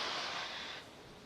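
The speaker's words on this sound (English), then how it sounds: "you can start to hear some of the hissing and popping, and that is pressure venting from the rocket and the plumbing in the transporter erector" Steady broadband hiss of pressure venting from a Falcon 9 rocket and the plumbing of its transporter erector on the launch pad, continuous and fairly even, easing slightly toward the end.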